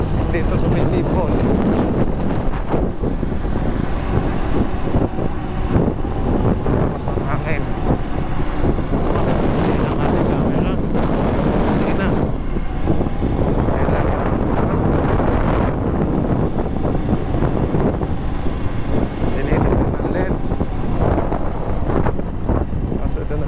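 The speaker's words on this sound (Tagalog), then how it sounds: "Lakas ng hangin na, hopefully hindi ito sumisipol." Strong wind buffets the microphone on a small outrigger boat at sea, a dense, continuous roar and rumble with gusty swells throughout, loud and unbroken across the whole stretch.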